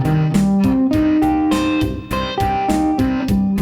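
Guitar notes of a triad arpeggio are picked one after another in a steady rhythm, each ringing briefly before the next, loud and close, with no talking.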